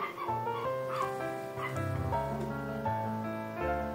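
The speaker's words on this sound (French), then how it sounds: "Il y a le chien des voisins qui est en liberté, il vient systématiquement faire râler les nôtres." The neighbours' loose dog barks and whines close by, giving a run of yips and bow-wow barks mixed with whimpers while other dogs answer, all steady and fairly loud outdoors.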